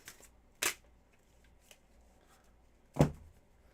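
Tarot cards being shuffled during a reading, two sharp, close riffling bursts separated by a quiet pause, with fainter card handling in between.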